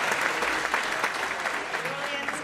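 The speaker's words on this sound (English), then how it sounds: "Let's hear another round of applause." An audience at an awards reception and celebration applauds, a dense, steady wash of many hands clapping that holds for a couple of seconds before easing slightly.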